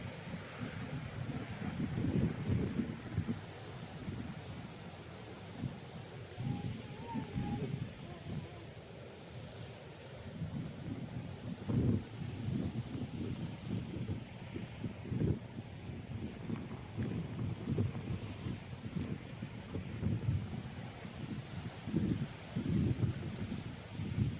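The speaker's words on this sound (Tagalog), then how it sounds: "Ang lakas ng alon." Strong sea waves crash and surge continuously at Cape D'Aguilar, Hong Kong, amid gusty wind buffeting the microphone, with occasional voices in the background.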